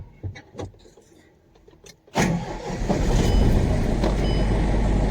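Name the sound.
lorry engine being started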